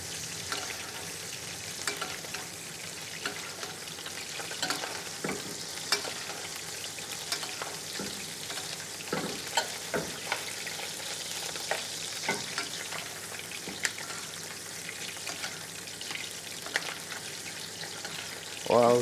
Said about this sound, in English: Look at that here, that sizzle.